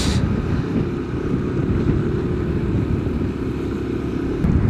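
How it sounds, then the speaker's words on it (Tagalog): Strong wind buffets the microphone at Kakawayan Falls in the Philippines, a steady low rumble that roars on without a break and stays loud and close, with no voices heard. "Lakas ang hangin."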